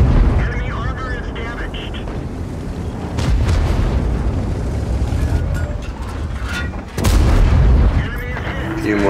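Heavy tank cannon fire and explosions in World of Tanks, with a Kampfpanzer 07 PE in battle, two big booming shots standing out over a rumbling engine and battle noise, with voices talking over it.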